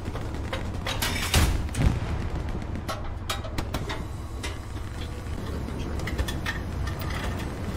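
A Sherman tank in Hell Let Loose fires a shell into a house, heard as a couple of sharp booms early on amid ongoing distant gunfire and rumbling battlefield noise.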